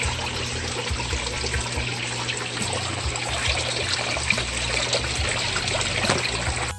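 Fresh water pours steadily into an aquaponics grow bed, a dense, continuous rushing splash that holds an even level throughout with no pauses.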